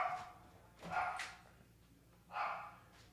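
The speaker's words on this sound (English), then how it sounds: "excuse me if you hear my little dog in the background" A small puppy barks somewhere in the background, two faint, separated yaps with a pause between them, while a birthday party is going on outside.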